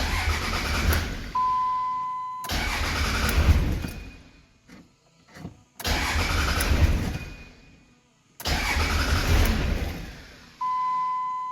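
A 12-valve diesel engine cranking in four long bursts of heavy, rhythmic starter churning. A dash chime beeps between them, and the engine does not catch.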